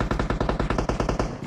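Rapid burst of video game machine-gun fire, about a dozen evenly spaced loud shots in quick succession, sharp and close, with no talking over it.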